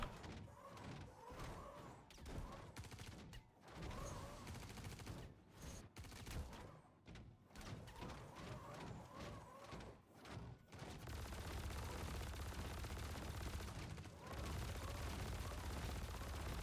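Gunfire from a hostile ship or player in the Star Citizen space game, dense bursts of shots and impacts filling the mix, with a heavier rumbling stretch toward the end; a voice speaks briefly.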